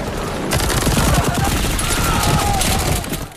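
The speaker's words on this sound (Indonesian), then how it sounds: "langsung memberondokkan peluru dan memasang bom di sana" Sustained automatic machine gun fire from a film bank robbery scene, loud and dense rapid bursts starting abruptly and continuing almost without pause, with no talk over it.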